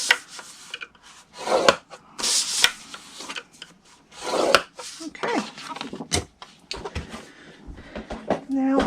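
Scoring cardstock for a hippo-themed lidded box, with bursts of rubbing and scraping as a tool runs along the paper, interspersed with handling noises and someone speaking quietly.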